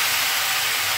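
Prawns dropped into a hot pan for a Bengali bottle gourd and prawn curry sizzle with a loud, steady, broadband hiss that holds evenly throughout, close up with no talk.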